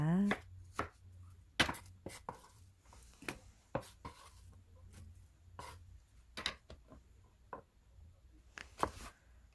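A knife slices apple into thick pieces on a cutting board, crisp irregular chops with short pauses, close and clear, prepared for a spicy stingray sashimi salad.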